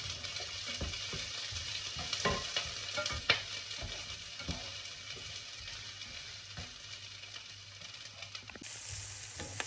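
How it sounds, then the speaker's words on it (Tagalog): Onions, garlic and spring onions sauté in a pan with a steady close sizzle, punctuated by occasional scrapes and clinks of stirring; no one speaks. "gigisahin muna natin yung onions, bawang, and sibuyas dahon"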